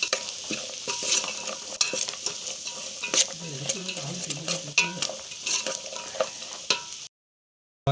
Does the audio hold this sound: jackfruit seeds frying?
yes